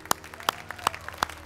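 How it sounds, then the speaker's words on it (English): A small church congregation gives a few sparse, separate hand claps of praise, roughly four distinct claps spaced about a third of a second apart, faint and fairly close, with no voices over them. "Can we just give the Lord a hand clap of praise?"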